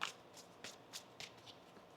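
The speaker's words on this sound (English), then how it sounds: "One more shuffle." Tarot cards are shuffled quietly up close, a soft riffling and flicking repeated in several brief bursts with small pauses between, alone without talk.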